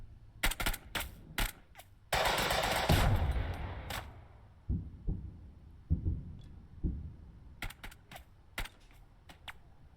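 Gunfire from the video game Burden of Command, with sharp clustered shots in quick bursts, a loud sustained blast in the middle, then scattered single reports and another rapid volley near the end, fairly close and clear.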